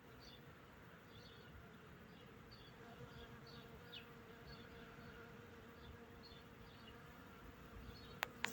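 Honey bees working blossoms on a peach tree in spring, a continuous soft buzzing swarm with individual bees droning past, heard faintly outdoors with a couple of sharp clicks at the end.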